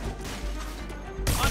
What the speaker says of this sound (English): Open fire! Hit it!